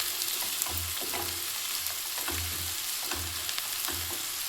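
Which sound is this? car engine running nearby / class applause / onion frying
onion frying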